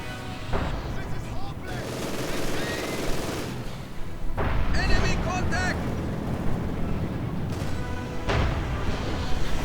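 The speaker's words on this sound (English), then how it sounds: "Panzer is firing away with reckless abandon" Tank cannon fire in the Company of Heroes 2 strategy game, a Panzer blasting away in a battle against Soviet forces: repeated heavy booms and gunfire bursts in a loud, dense battle din, with commentary running over it.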